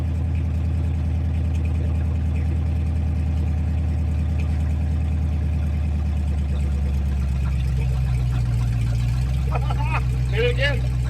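An engine idles too high, a steady, fairly loud rumble that eases slightly toward the end, with faint voices near the close.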